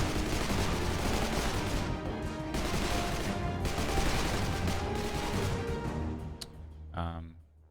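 Rifle gunfire in a Unity survival multiplayer shooter, a dense run of rapid shots that keeps going for several seconds at fairly high level, then drops away, with speech over the top.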